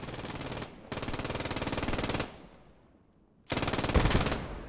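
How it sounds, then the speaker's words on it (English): Machine gun fire in the WWII shooter Post Scriptum, heard as three long bursts of rapid, evenly spaced automatic shots. The bursts are loud and close, separated by short gaps. "A little bit of machine gun fire, we can see."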